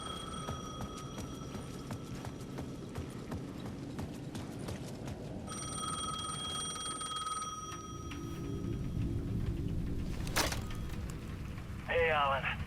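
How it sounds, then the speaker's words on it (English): A payphone at the edge of a plaza in the game Alan Wake 2 rings in repeated bell bursts, with other game sounds and a voice appearing near the end. "The payphone at the edge of the plaza was ringing again."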